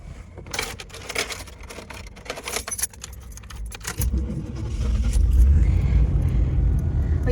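Keys jangle brightly for several seconds, then a 1988 Chevy G20 van's engine cranks and catches into a loud, deep idling rumble that fills the rest of the clip.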